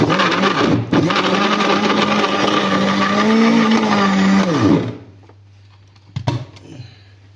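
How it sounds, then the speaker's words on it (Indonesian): A kitchen blender runs loud and steady for about five seconds, grinding fresh chilies, bird's eye chilies and other spice ingredients for a Padang-style fern curry, its motor pitch shifting as the load churns, then it winds down and stops. "kita blender."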